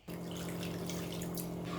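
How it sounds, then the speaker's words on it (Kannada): Water poured into a pot of hotel-style tomato sambar, a steady close trickle and splash holding at an even level throughout with no voices. "ಯಾನ್ ಚೂರು ನೀರು ಮೈತು ಅಂದುಲ್ಲೆ"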